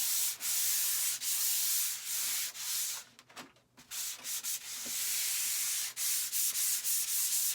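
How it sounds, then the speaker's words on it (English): Rhythmic hand sanding with 150 grit sandpaper on a model railroad layout platform, repeated rasping back-and-forth strokes close up, with a brief pause in the middle. "this is 150 grit sandpaper"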